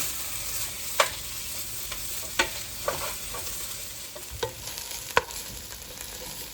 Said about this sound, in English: Now I'm going to add the tomato paste. And I'm going to give that a stir.